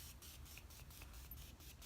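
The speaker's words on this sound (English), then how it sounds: "if you guys like that kind of aerosol, like mist spray" Aerosol mist spray hissing from a nearly empty can, a faint, steady breathy hiss with slight sputtering pulses throughout.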